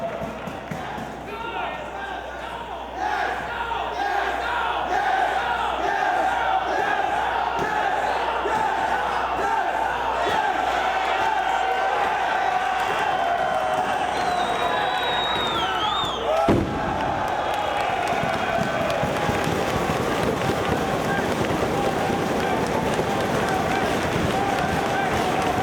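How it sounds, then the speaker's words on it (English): Wrestling crowd at a Ring of Honor match between CM Punk and Bryan Danielson, a dense roar of fans chanting and cheering continuously for the whole stretch, loud and sustained with a brief sharp slam partway through. "I love that yes, no chant we just heard from the fans cheering on who they want."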